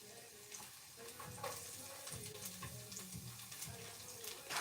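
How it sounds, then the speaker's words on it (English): Chopped garlic sears in a hot pot, a soft continuous sizzle heard close up alongside faint stirring sounds, with no speech over it. "I don't know if you guys can hear that sear"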